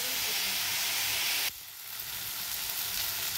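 Loud hissing sizzle of fish frying with turmeric and chili powder in a pan for a rohu curry, dense and steady, dropping sharply halfway through before settling into a softer, continuous crackle.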